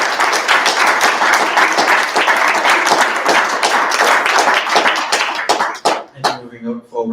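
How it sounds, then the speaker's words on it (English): A round of applause at a student meeting: dense, close clapping from a small group fills several seconds, then thins to scattered claps before a voice begins speaking over the tail. "So another round of applause."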